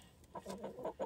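Several soft chicken clucks in a quick, uneven series, close by but fairly quiet, with no talking, on a Montana farm on a cold winter day.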